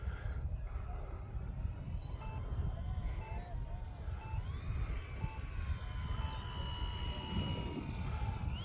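E-flite T-28 1.2m RC airplane coming in to land on grass with flaps lowered, its electric motor a thin, fairly distant drone under wind and light outdoor noise, with faint voices in the background.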